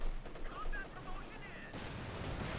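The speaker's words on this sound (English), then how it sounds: "Lots of firing here, Victor. Point almost ceased in the west one. Cavalry rifle need to fall back, need to grab these ones while they can. Machine gun though of course is covering that." Machine-gun fire from the video game Company of Heroes 2 crackles under dense battle noise, a continuous wash of distant bursts in a busy war-strategy match.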